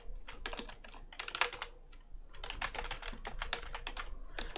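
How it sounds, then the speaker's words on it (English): Typing on a computer keyboard produces a fast, steady patter of close, quiet key clicks in irregular bursts, with a brief pause midway before the keystrokes resume. "If you just hit the Windows key and just start typing, you'll get a search bar."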